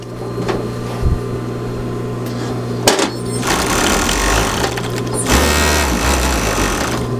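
A serger running along the edge of wool fabric for a blanket shirt, in a fast mechanical rattling hum that starts, pauses with a click, then runs again in longer steady bursts, close up.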